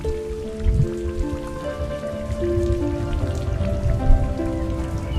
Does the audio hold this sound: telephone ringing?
no